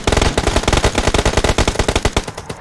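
Loud, rapid automatic gunfire from the mobile battle royale game PUBG Mobile: a continuous run of closely spaced shots hammering away steadily for nearly three seconds, with no voices over it.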